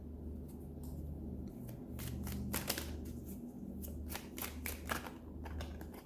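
Tarot cards are handled and shuffled close by, quiet bursts of papery riffling and flicking over a soft background hum, with no talk.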